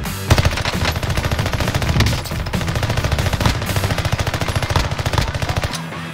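Rapid, loud bursts of automatic gunfire in a shooter video game, nearly continuous rattling volleys with brief gaps and no talking.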